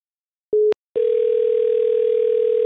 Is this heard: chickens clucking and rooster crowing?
no